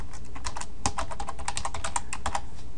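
Steady, rapid clicking of a computer keyboard being typed on, close and continuous throughout with no voices.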